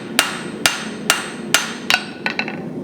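A blacksmith's hammer rings sharply on hot metal while forging a short taper on a leaf, five evenly spaced loud strikes followed by a quicker cluster of lighter taps.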